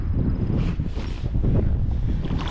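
Wind gusting over an angler's float tube on open water, a steady broad rushing noise with soft buffeting swells, loud and close against the microphone, no voices.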